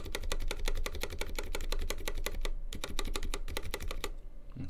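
A mechanical keyboard, a Cox Pinnace, with a tuned stabilizer is pressed over and over, giving rapid, crisp clacking keystrokes close to the microphone and loud, with no talking.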